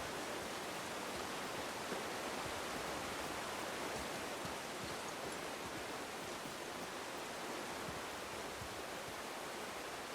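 Waterfalls in the God of War video game: a broad, steady rushing roar of falling water, constant and even across the whole stretch, soft in level with no voices.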